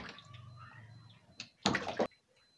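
Fresh farm-raised catfish being washed by hand in water for drying, giving a few close splashing and sloshing bursts after a quiet stretch, with no talking.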